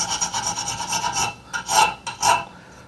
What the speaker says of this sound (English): I'm having good luck with a rotary tool, a little sanding drum.